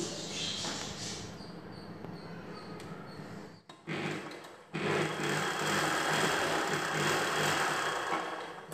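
An electric sewing machine stitches tucks on a katori blouse, a continuous fast mechanical whir that stops briefly midway, then resumes louder and steady, close up with no talking.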